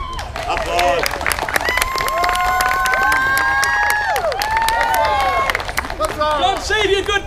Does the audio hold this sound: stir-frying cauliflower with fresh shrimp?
no